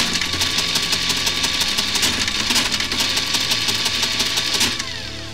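A 1950 Facit ESA mechanical calculator cranking through a division, a dense continuous mechanical whirring and rattling with rapid clicks, close and loud, easing off near the end, no talking.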